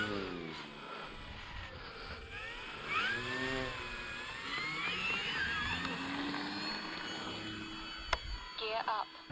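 An FMS P-40B RC model airplane's electric motor runs steadily, its pitch rising and falling in sweeping whines at moderate distance, with people talking over it.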